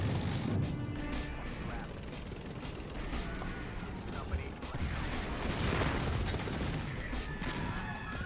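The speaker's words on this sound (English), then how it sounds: "Oh, we have some tanks rolling through." Tanks rolling through in a real-time strategy video game, a continuous dense mechanical clanking and creaking of treads and gears with scattered impacts, with no talk.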